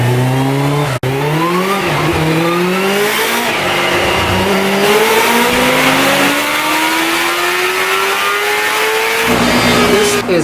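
A Kawasaki Ninja H2 motorcycle engine with a stock exhaust revs hard on a dyno pull, its pitch climbing steadily in one long, loud, sustained run close by.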